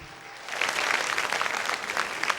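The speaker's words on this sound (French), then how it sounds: "Alors, Parfait et Abdulaziz, veuillez les applaudir encore." An audience at a televised talent competition quarter-final breaks into applause for two young boy contestants, a dense burst of clapping that swells quickly and holds steady at close, full volume.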